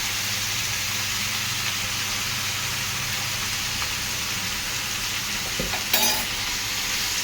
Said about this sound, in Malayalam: അപ്പോൾ ഇതൊന്ന് നമുക്കൊന്ന് ഇളക്കി കൊടുക്കാം കേട്ടോ.